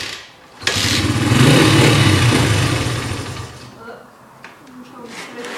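Honda XR80 motorcycle engine sputtering into life on a start-up attempt, an abrupt catch followed by a few seconds of uneven running that dies down, close by, with people talking around it.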